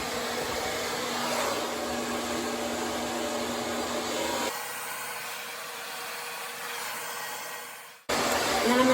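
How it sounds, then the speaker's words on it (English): A hair dryer blows steadily with a broad airy roar, then switches to a quieter, lower-pitched hum before briefly cutting out and returning at full strength. "And then I'm going to turn my blow dryer around and I'm going to suck all the hot air."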